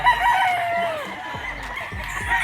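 A gamecock rooster, an SBR crossed with Gilmore, crows loudly and close at a gamefowl farm in one drawn-out call, with faint background birds and low farm noise.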